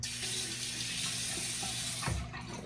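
Tap water runs steadily into a sink to wet a makeup sponge, a constant close hiss with a brief splash near the end.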